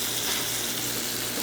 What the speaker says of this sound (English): I'm gonna insert the video here so you can hear it sizzle.